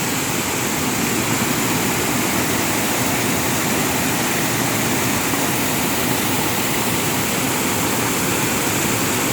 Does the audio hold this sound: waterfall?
yes